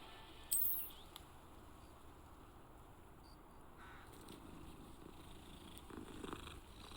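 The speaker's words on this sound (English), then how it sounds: "You can pet the cat." Cat purring while petted in Hogwarts Legacy, a quiet steady low rumble running throughout, with a brief sharp sound near the start and faint bird-like calls in the background.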